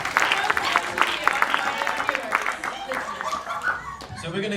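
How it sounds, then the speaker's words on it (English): Festival audience applauding and cheering for a hip-hop act, with dense claps, scattered whoops and a few chuckles over a steady crowd roar lasting several seconds. "One last round of applause, please, for the girls and for the family, man."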